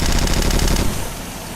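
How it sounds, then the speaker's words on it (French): A minigun in the video game Red Crucible 2 fires a continuous rapid burst of loud rattling shots for most of the clip, then the firing cuts off and leaves a fading tail. "Celui-là, c'est juste une grosse mitraillette, donc c'est un minigun."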